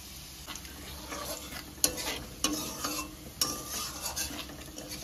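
Whole cardamom, cloves, cinnamon, cumin, coriander and crushed black peppercorns frying in hot oil for a chicken curry: a steady close sizzle broken by a few sharp spoon clinks and stirring scrapes.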